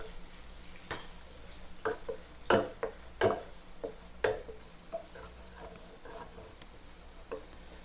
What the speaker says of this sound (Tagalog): Sunod, ilagay na natin itong bawang.